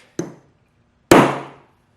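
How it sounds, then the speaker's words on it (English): A steel center punch is struck twice to mark a drilling spot on a fastener: a short sharp metallic tap, then a louder ringing strike about a second later that decays slowly. The strikes are close, with no talking. "we're going to use a center punch"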